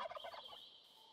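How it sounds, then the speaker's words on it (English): Turkeys in the video game RLCraft give one short, rapid gobble that trails off quickly, faint and somewhat distant, with no talking over it. "Oh, there's some turkeys!"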